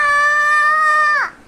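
A child imitates a rooster's crow with a single sustained, tonal vocal call held for over a second, ending in a quick downward break; loud, close and alone.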